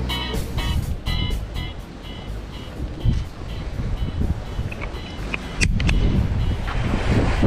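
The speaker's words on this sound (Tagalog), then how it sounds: "Medyo mahangin lang." Strong wind buffets the microphone in continuous gusty rumbles, with faint background chatter and a few clicks.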